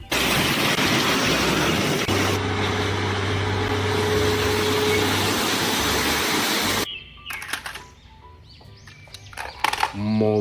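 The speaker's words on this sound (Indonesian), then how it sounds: "Dump truck." A dump truck engine rumbles loudly and steadily with a low drone, then cuts off, leaving a quieter stretch with bird chirps and other small sounds.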